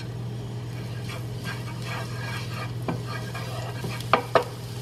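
Garlic sautéing in extra virgin olive oil in a pan, a steady soft sizzle with light stirring scrapes and a couple of sharper utensil clicks near the end, no talking.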